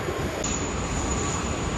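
Passenger jet at Sydney Airport, a steady, loud broadband roar that holds evenly throughout with no voices.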